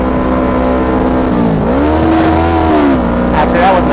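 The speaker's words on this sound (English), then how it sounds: "I'm in high RPMs, I'm near red line, and I'm going to shift down." A motorcycle engine screams near redline, then the pitch dips and climbs again as the rider downshifts at high RPM. The sound is loud, close and continuous throughout.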